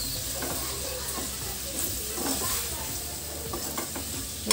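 Ground coriander and garam masala fry in hot oil for an anapaginjala masala curry, giving a steady close sizzle with intermittent scraping stirs of a spoon through the pan.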